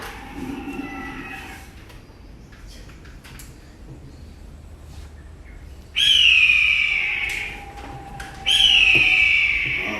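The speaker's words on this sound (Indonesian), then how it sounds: "Sekarang ada burung elang." An eagle gives two loud, high descending calls from nearby, each lasting about two seconds, after a quieter stretch of outdoor background with faint rustling.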